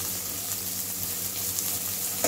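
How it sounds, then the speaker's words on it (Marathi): Finely chopped cabbage with spring onions fries in a pan, giving a steady, loud sizzle with faint stirring throughout and no talking. "थोडासा कोबी चिरलेला बारीक आहे तो घालते. आणि परत आपण चांगलं ढवळून घेऊया."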